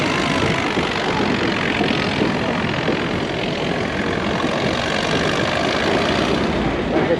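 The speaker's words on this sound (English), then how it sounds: "Now they got the bulldozer going from the 50s." A 1950s bulldozer engine works hard at a steam and motive power festival, a loud, constant, dense rumbling roar with no break.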